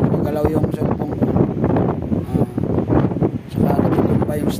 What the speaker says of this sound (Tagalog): malakas ng hangin. Yan ang magalaw yung cellphone ko.